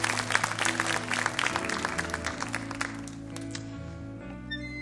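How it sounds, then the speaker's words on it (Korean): Audience applause at a church youth worship service as a young man is called forward for a discipleship school completion ceremony; steady clapping fills the room, with faint music underneath. "우리 박수로 모시도록 하겠습니다."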